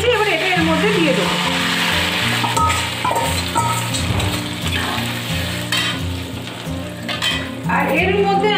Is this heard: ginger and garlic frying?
yes